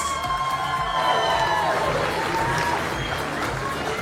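Crowd cheering and shouting rings out steadily after a wrestling bout between Andria Khorguani and Gia Ringi, a dense, continuous roar of voices with scattered whistles and no clear pauses.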